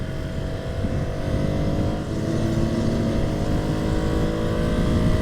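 A 2020 Ducati Scrambler Sixty2 motorcycle engine runs steadily and loud, its drone rising gently as it accelerates, heard close and continuous with wind rush and no talk.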